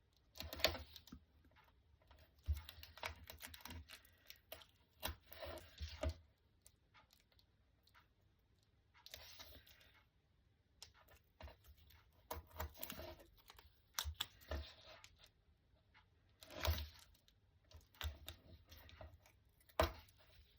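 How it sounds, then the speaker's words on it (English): Double-sided tear tape being pulled and pressed around the edges of a handmade aperture card with florals, heard as bursts of crackly peeling and tapping separated by quiet pauses, close and fairly soft. "Just going to pop a nice piece of double-sided tear tape all around those edges"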